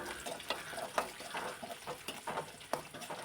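Onions sautéing with curry leaves in a pan make a soft, continuous sizzle with repeated scraping stir strokes at an irregular rhythm, fairly quiet and close, with no talk.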